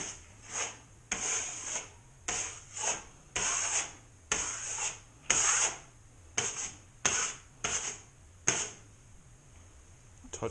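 Repeated rasping scrapes of a drywall knife taking excess joint compound off a patched doorknob hole in sheetrock, about a dozen short strokes in a steady rhythm, close and clear with no talk.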